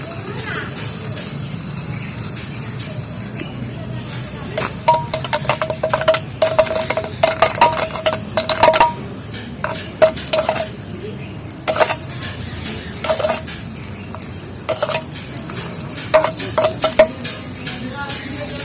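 Wax is heated in a small pot on the stove to melt it, with a low simmering hiss under bursts of metal clinks and scrapes as a utensil stirs and knocks against the pot.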